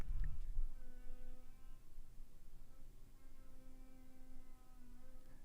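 A distant drill whines steadily in another room, a thin insect-like buzz holding a sustained pitch with slight wavering, faint under room hum, with a thump at the very start.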